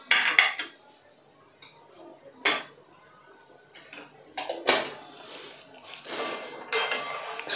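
Sugar and water being stirred together in a pan to make syrup for barfi, with a few sharp spoon-on-metal clinks and scrapes spaced irregularly over a quiet background.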